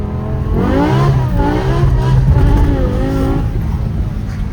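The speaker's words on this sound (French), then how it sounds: "on va pouvoir peut-être apprécier le son du V10" A BMW M5 V10 engine revs hard and loud, its pitch rising and falling in a few sweeping surges, close by and continuous.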